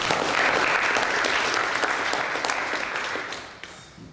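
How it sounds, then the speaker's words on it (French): An audience at a programming talk bursts into loud, dense applause that holds strong and then gradually thins and fades over about four seconds. "Allez, applaudissons-le."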